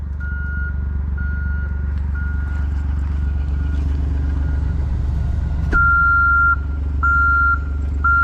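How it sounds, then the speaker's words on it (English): Repeated high-pitched backup alarm beeps in a steady on-off rhythm over a loud, constant engine rumble, with a sharp clank partway through. "would you shut them backup alarms up?"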